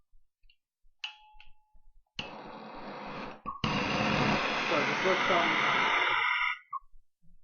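A small portable gas soldering torch is switched on with a few clicks, then a steady gas hiss rises in two stages, holds loud and close for a few seconds, and cuts off abruptly.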